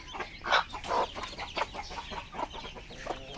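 Several chickens cluck and chatter close by on a farm where hens are brooding over eggs, a run of short, busy calls with no talk over them.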